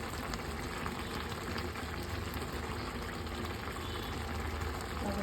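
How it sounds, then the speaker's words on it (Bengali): Bottle gourd simmers with spices and salt in the water it releases, a steady close bubbling and hissing that runs continuously with no talking. "লাউয়ের গায়েই যা জল থাকে তাতেই লাউ সেদ্ধ হয়ে যায়"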